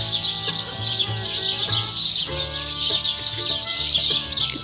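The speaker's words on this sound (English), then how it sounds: "Chickens are enjoying their weed piles" Backyard chickens cluck and chirp softly as they pick through piles of pulled weeds in a rainy, humid garden, a continuous close chorus of murmuring hen calls over a steady hiss of rain.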